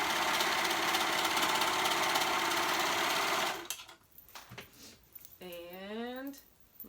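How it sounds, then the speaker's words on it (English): A sewing machine stitching through three layers of fabric edges on a color-blocked scrap garment runs loud and steady, then stops, followed by fainter handling noise and a brief voice. "make sure that you're sewing all your edges, all your fabrics, all your 3 layers"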